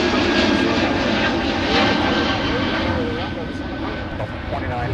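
A C-17 military jet roars loudly and steadily at Minneapolis–Saint Paul airport, a broad continuous engine rumble that eases slightly toward the end. A voice can be heard over it.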